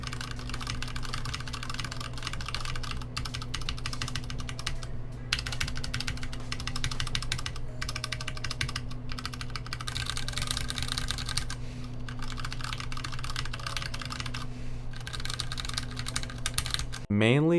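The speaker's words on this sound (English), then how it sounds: "now I'm going to give you a typing test comparison so you can see how they sound compared to the stock" Rapid typing on a Mecha Mini keyboard fitted with Ducky rubber keycaps over Cherry MX Brown switches, a dense, steady clatter of muted keystrokes, close and continuous, with a brief pause near the end.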